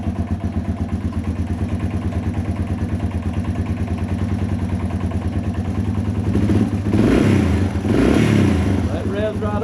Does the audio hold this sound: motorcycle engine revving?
yes